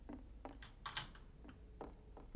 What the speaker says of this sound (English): The keyboard, the sound of the keyboard.